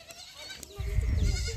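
A lamb bleats once, a short wavering cry near the start, with a low rumble of movement and village ambience following.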